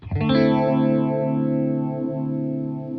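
A guitar chord sustains through a Fender modulation effects pedal, its tone sweeping up and down in a slow, repeating swish like a flanger or chorus, ringing steadily for about three seconds.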